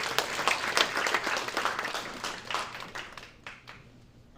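A crowd at a tech demo night in San Francisco claps for a few seconds, loud and dense at first, then thinning out and fading toward the end.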